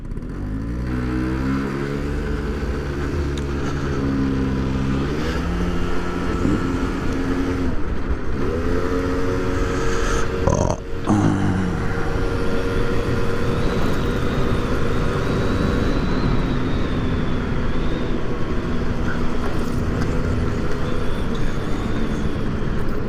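A scooter engine while riding, a steady close drone that rises and falls in pitch as the throttle changes, with a continuous wind rush and no talking.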